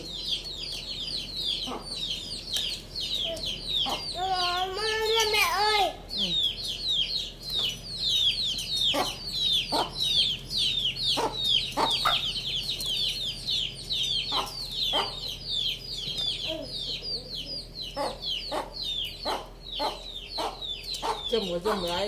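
Farm chickens clucking continuously, with rapid repeated clucks close by, a rooster-like rising call around the middle and occasional louder squawks, over faint low background hum.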